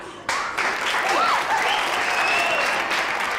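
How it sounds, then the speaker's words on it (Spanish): Audience applause at a stage performance, sudden and dense after a brief quieter moment, with whoops and a rising cheer or whistle riding over the clapping of a large crowd. "Por favor, un fuerte aplauso para que suba al escenario Violeta."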